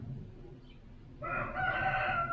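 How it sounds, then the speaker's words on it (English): Roosters crow, one drawn-out cock-a-doodle-doo rising clearly from a quiet rumbling background partway through and carrying on to the end, moderately loud and somewhat distant. "Oh, we can hear the roosters,"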